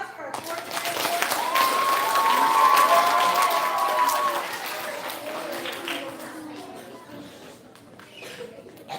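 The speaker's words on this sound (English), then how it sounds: "Can we have a round of applause for our fourth grade award?" An elementary school audience at an awards ceremony gives fourth grade award winners a round of applause, steady clapping that swells and then tapers, with some cheering and a few voices mixed in.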